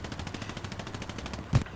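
Rapid bursts of MG42 machine gun fire in the WWII shooter Hell Let Loose, a steady rattling stream of shots with one heavier, louder bang near the end.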